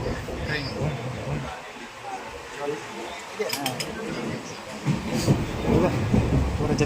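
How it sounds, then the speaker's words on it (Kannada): A train rumbles past with a broad, rolling clatter that swells toward the end, while people talk nearby. "ಟ್ರೈನ್"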